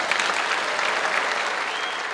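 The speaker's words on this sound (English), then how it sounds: "Let's give her a big round of applause for winning the 2024 high school level Magic Baton Melody Contest." Sustained, dense applause from an audience at a music education event honouring a high school contest winner, loud and even from start to finish.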